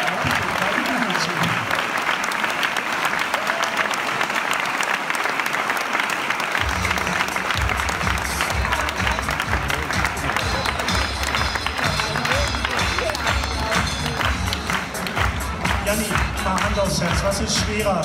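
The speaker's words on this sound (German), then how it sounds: "Begrüßen Sie mit einem herzlichen Applaus" Sustained audience applause at an Audi fashion show featuring VfL Bochum players, dense clapping running steadily throughout, with a low thumping beat joining partway and some crowd noise mixed in.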